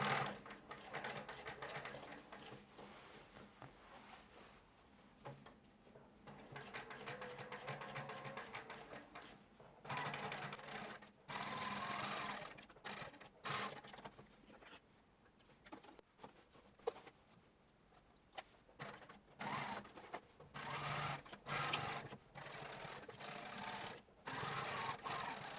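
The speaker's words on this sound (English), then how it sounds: "Stitch the curved pocket seams." Sewing machine stitching the curved front pocket seams of a pair of jeans, running in bursts of varied length with short pauses between them, close and fairly loud.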